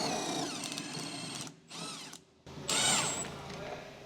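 An electric impact wrench with a 14mm deep socket removes a strut-to-lower-control-arm bolt on a Honda Civic, whirring and rattling in several bursts separated by brief pauses, with a higher, louder burst near the end.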